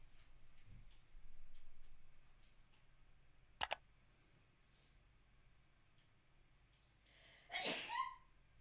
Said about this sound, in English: Wife sneezes over there.